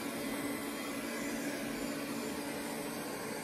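An Ecovacs Deebot 920 Ozmo robot vacuum cleaner running, a steady, fairly quiet broadband whir with a low hum that holds evenly throughout.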